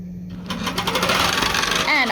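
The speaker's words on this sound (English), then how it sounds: "I'm going to hit the green check mark on my display. And it's going to take its tie-off stitches." A Butler quilting system sewing machine starting up to take its tie-off stitches, a fast, even mechanical chatter close by that builds quickly and holds steady, with a voice speaking briefly over it at the end.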